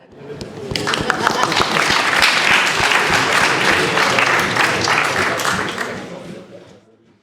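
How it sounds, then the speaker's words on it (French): An audience applauds a small robot after it struggles its way up a flight of stairs, dense clapping swelling quickly and holding steady before tapering off near the end. "Bravo, bravo le robot. On peut l'applaudir."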